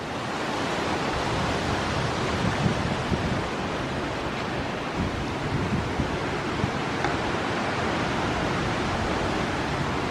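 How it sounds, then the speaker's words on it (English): Water flows steadily during a hurricane, a dense, even rushing hiss that fills the scene at a constant moderate level, with no voices. "Water's still flowing good."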